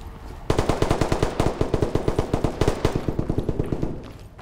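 Rapid automatic gunfire in the tactical shooter Ready or Not, a loud, close, evenly spaced string of shots that begins abruptly and rattles on for several seconds before tapering off.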